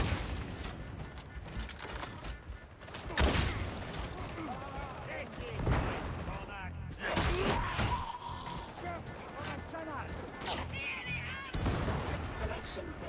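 Repeated gunfire from a Gunner enemy in Darktide rattles through a chaotic co-op fight, with sharp bursts and crashes scattered across the scene amid other combat noise and voices.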